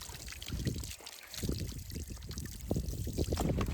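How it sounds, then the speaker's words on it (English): Cold water runs steadily from a tap in a house, a continuous close splashing trickle and pour with no talking. "Straight hot water, and it's cold coming out of here."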